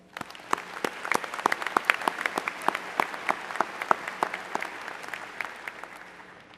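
Audience applause at the 2009 University of Oregon spring commencement, a steady spatter of distinct claps from a moderate crowd, fairly close and even throughout with no voices over it.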